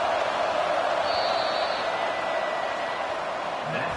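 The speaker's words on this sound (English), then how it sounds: "Listen to this crowd just shaking the girders of this place trying to help their defense." A packed stadium crowd at an Arkansas vs Ohio State football game roars for the defense, a dense, loud, steady wash of cheering that holds without a break.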